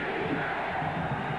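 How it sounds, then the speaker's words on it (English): Stadium crowd at a 1987 college football game between South Carolina and Nebraska, a steady, dense roar of many voices with rhythmic chant-like swells throughout, fairly loud and continuous with no distinct speech. "The crowd chants defense, and they need it here."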